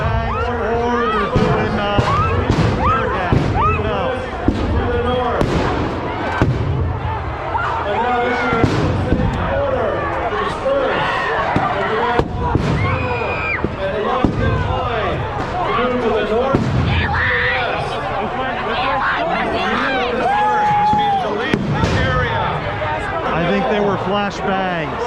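Flashbang grenades going off at a street protest, sharp loud bangs repeating irregularly amid constant crowd noise and shouting voices nearby.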